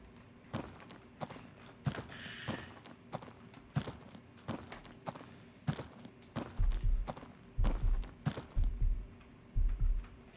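Footsteps of a character walking in a video game, a regular tread of soft thuds that grows heavier and more distinct toward the end, over a steady low hum and ambient drone with no talking.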